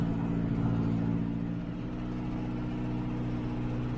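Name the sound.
tractor engine running while mowing tall grass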